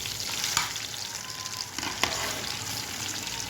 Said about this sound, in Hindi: अब मैं इसमें शामिल करूँगी थोड़ी सी दाल।